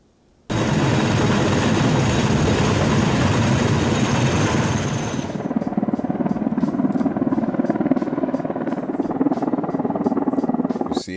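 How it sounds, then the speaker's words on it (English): Steady, loud engine roar with a dense broadband wash, then a choppy rhythmic beating texture continuing, like a helicopter flying close by while placing a section of a tower. "the helicopter must fly and place a part of the tower in the right place"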